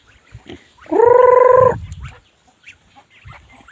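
A single loud, drawn-out duck call, honking and nasal, rises above quiet background noise on a small farm, with faint scattered chicken clucks around it.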